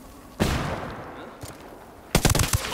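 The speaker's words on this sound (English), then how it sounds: "Opening fire on these fuckers." Gunfire in the tactical shooter Ghost Recon: sharp, loud bursts of rapid automatic shots at two points, separated by a quieter stretch with a lone shot, heard close up with no voices.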